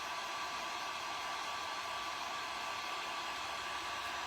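Hair dryer blowing steadily to dry paint on a denim jean pocket, a loud continuous broadband whoosh with an even hum that runs unbroken from start to end with no talk.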